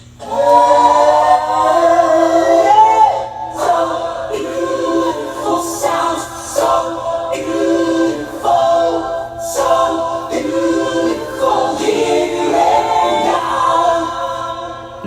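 An AI-generated gospel choir made with Suno sings loudly and steadily, many layered voices holding chords and shifting through phrases together, with no speech over them.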